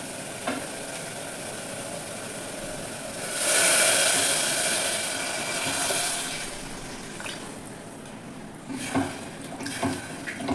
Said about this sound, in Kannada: ಇವಾಗ ನಾನು ಇದಕ್ಕೆ ರೈಸ್ ತೊಗೊಂಡಿದ್ನಲ್ಲ ಆ ರೈಸ್ನ ಹಾಕ್ತಾ ಇದ್ದೀನಿ